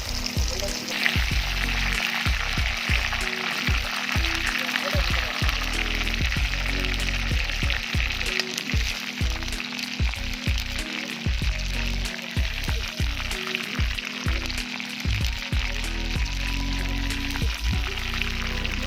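Crispy oats-coated fried chicken frying in oil over an outdoor fire, a steady close sizzle with constant crackling and popping spits throughout, with no talking.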